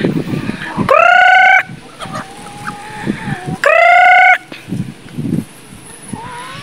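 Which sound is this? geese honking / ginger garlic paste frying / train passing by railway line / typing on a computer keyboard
geese honking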